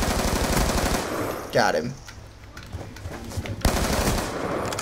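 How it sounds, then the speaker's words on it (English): MTAR assault rifle fire in Black Ops 2, loud rapid automatic bursts filling most of the stretch, with a brief pause where someone speaks a short phrase before firing resumes. "I'm using the MTAR, which is a gun I really, really liked using in Black Ops 2."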